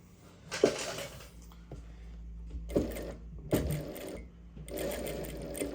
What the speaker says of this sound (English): As you can see, the needle is moving back with the material and that helps it pull it through.